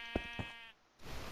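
A single close sheep bleat, a short wavering nasal cry, followed by a brief pause and a soft rustle.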